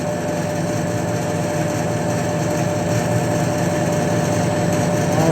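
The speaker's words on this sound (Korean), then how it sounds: "이 동작은 이 아랫부분의 펌프가 계속해서 반복을 할 거고요" A liquid filling machine paired with a 600-liter steam kettle, its lower pump running continuously with a loud, steady mechanical whir and hum, close and unbroken, with no voices.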